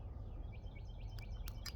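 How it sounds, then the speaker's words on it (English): Several birds chirp and tweet in quick, bright bursts at a moderate distance, over a steady low outdoor rumble with no talking. "Hopefully you guys are hearing these birds."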